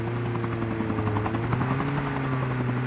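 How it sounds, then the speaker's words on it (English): Steady helicopter rotor drone in a multiplayer video game, a continuous loud buzzing hum with strong low harmonics holding evenly throughout, no talk. "go for the helicopter there."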